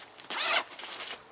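A zipper on the lid storm flap of a Berghaus rucksack is pulled open in one quick, close, raspy run lasting about a second, heard alone without talk.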